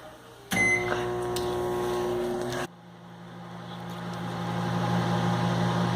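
A microwave oven hums steadily while cooking brigadeiro, then cuts out abruptly; a lower motor drone continues afterward, growing slightly louder.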